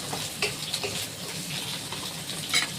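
Moong dal frying lightly in oil in a pan, a soft, fairly quiet sizzle with scattered crackles and stirring scrapes, a few sharper spits standing out, no talk.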